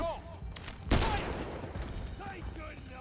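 In the James Bond 007 video game, a loud burst of gunfire hits hard, then rapid shots rattle on at a lower level while voices shout nearby.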